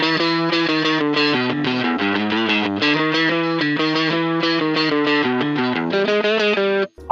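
Electric guitar played through a Line 6 Helix, its boosted level driving a Jazz amp for a mildly distorted tone: a continuous run of bright, overdriven chords and notes, loud and close, with no talk over it.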